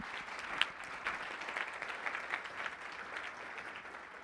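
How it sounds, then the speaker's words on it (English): Applause from an audience at a live recorded event, a moderate, steady patter of clapping with a few sharper claps, heard at a little distance and lasting throughout without speech. "Another round of applause for Rita."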